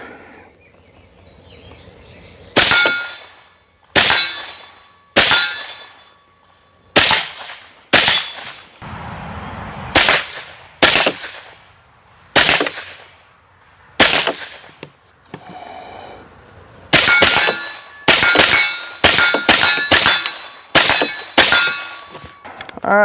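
Suppressed rifle firing 5.56 rounds through a suppressor fitted with a heat-resistant wrap, heard as a series of sharp, loud reports in irregular spacing, some alone and some in quick clusters, with no talking.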